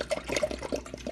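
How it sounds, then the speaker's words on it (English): China Lily soy sauce is poured into a salmon brine as one steady liquid stream, close and continuous, with small splashes as it lands in the container. "It's my favorite type of soya sauce, so I'm going to pour that in there."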